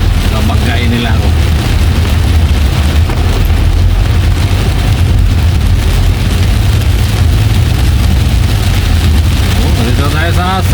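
Heavy rain pours onto a moving car, a dense, loud, constant roar on the roof and windshield with a low road rumble underneath, while a voice speaks faintly inside.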